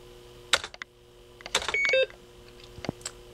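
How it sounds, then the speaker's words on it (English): A BBC Micro computer gives short electronic beeps among faint clicks and taps, including a brief tonal bleep near the middle, all quiet and close with no talking. "Beep beep."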